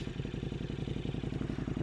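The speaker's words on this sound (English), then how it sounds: "I don't know if you can hear the exhaust." A KTM Super Duke 1290 GT motorcycle's exhaust rumbles loud and close, a steady throbbing idle with rapid regular pulses and no talk over it.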